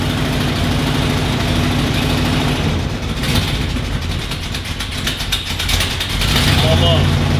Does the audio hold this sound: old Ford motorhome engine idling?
yes